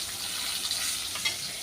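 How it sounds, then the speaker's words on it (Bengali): Flat beans (shim) fry in hot oil until reddish, giving a continuous dense hissing sizzle, fairly quiet and close, with no voices. "তো সিমগুলো লাল লাল করে ভাজতে হচ্ছে"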